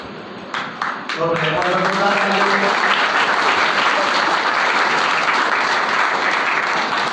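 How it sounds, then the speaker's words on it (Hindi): Audience applause at a school annual results and prize distribution ceremony, a brief spoken phrase and a few scattered claps first, then loud, sustained clapping from a large crowd filling the rest. "अभी तालियों की आवाज जैसी है वैसी है"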